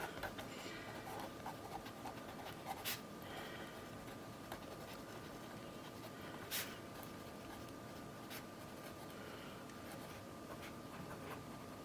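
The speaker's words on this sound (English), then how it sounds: "I like to have a Micron pen, which I have right here. And I am just going to write Tailored Expressions color wheels" A Micron fine-tip pen scratching across paper, faint close strokes in short bursts over a quiet room hiss with a soft steady tone in the background.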